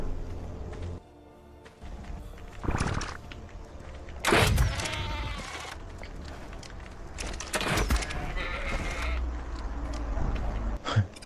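Sheep bleat in ARK Survival Evolved on PlayStation 4, several loud wavering cries spaced across the stretch over steady game ambience and mechanical clatter.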